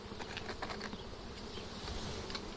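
A captured swarm of honeybees buzzing continuously, a dense steady hum of many insects with no talk over it.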